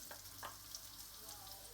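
Chopped carrots sizzling in a drop of olive oil in a pan, a steady hiss of frying with a few faint stirring ticks, close and even throughout.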